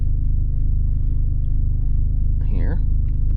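A Dodge SRT-4 engine idles steadily up close with a low, even rumble, and a brief voice cuts in near the end.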